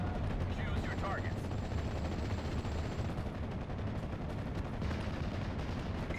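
Dense, continuous gunfire and battlefield rumble from the World War II strategy game Steel Division: Normandy 1944, a steady loud wash of shots with a brief faint voice early on.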